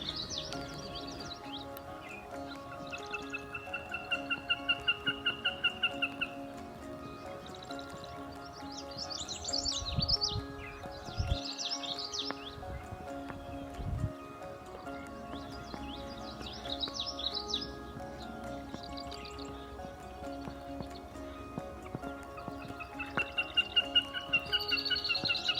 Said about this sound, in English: There was another bird also calling in the marsh the whole time.